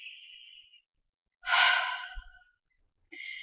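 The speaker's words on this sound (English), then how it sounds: "take a nice deep breath in" A slow, deep breath is drawn in during a calm tapping exercise, a close, soft, airy rush between short faint breathy sounds, with no talking.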